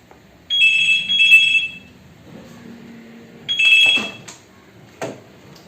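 An indoor telephone rings loudly in two bursts separated by a pause, followed by a few faint clicks and handling knocks.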